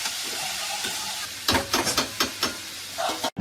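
Mutton sautés in a pan at home, a steady soft sizzle broken halfway through by a run of sharp, rhythmic scraping strokes of a spatula stirring the meat.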